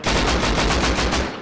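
Gunfire in the video game Rust, a rapid automatic burst of about a dozen evenly spaced loud shots, close and dense, trailing off at the end.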